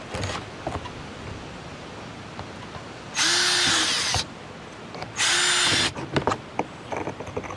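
A power drill whirs outdoors in a garden in two bursts of about a second each, close and loud, with gusty wind and small knocks between.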